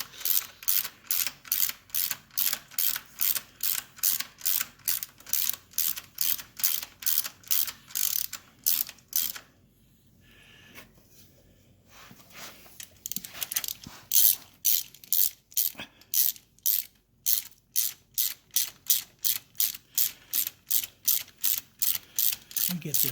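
A hand ratchet wrench clicks in quick, steady bursts while a 1974 Triumph Trident primary drive is assembled, with a short pause midway and then more rapid pawl ticking, close and crisp.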